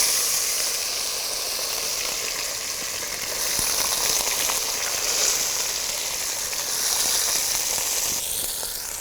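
Wet potatoes hit a hot cumin and mustard seed tempering, giving a steady loud sizzling hiss that swells and fades slightly over several seconds with no talking.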